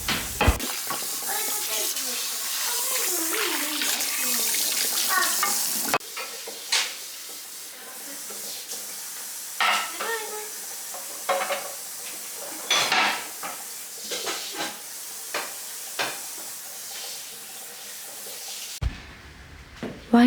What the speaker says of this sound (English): my 7-year-old eldest daughter is doing the washing up